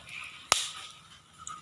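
A single sharp pop from a corn kernel bursting as it fries, one close crack standing out against faint background hiss, with no voices.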